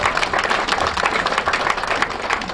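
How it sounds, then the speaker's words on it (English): An audience gathered for a Ford dealership's 100th anniversary event breaks into loud, sustained applause, with dense overlapping claps continuing throughout. "let's give a round of applause for that too."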